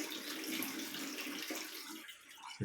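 Hot water runs from a bathroom tap into a sink during a shave, a steady close splashing stream that shifts slightly near the end.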